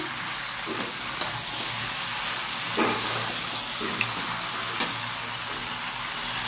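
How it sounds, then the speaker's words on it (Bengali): Mutton frying and being stirred in a pot for mutton kosha, a steady broad sizzle with occasional soft scraping and clinking of a spoon at irregular intervals, close and with no talking. "মটন কষাচ্ছি এখন।"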